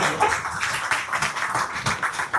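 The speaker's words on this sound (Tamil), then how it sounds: "அனைவரும் ஒரு சிறந்த கைத்தட்டலுடன் வரவேற்போம்" A crowd at a Tamil book launch event claps together to welcome a speaker, dense fast applause that stays loud and continuous throughout the short stretch.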